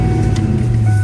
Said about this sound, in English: I'm gonna back it up here in the shade